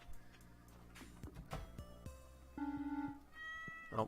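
A farm cat in Stardew Valley gives a couple of short, clear meows, close and fairly quiet over soft game music.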